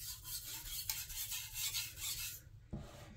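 A Yoshikane Gyuto knife in SKD12 steel is drawn across a 2000-grit whetstone in quick rhythmic rasping strokes, close and crisp, then the scraping stops abruptly near the end.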